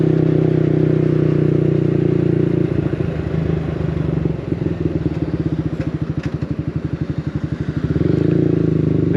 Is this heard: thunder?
no